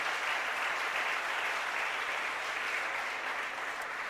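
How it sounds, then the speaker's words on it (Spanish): A church congregation applauds steadily, a dense, even wash of many hands clapping that holds at a constant level for the whole stretch with no voices on top. "Denle un aplauso al Señor"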